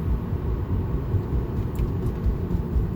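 A car's low droning hum under light throttle at around 20 to 40 mph, a steady rumbling drone heard from inside the cabin, continuous and fairly loud with no talking.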